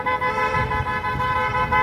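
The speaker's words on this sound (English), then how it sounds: "More honks, more support." Car horns honk in support of an anti-ICE protest in Portland, sounding as a sustained, steady tone from the traffic. Road noise rumbles underneath and no one speaks.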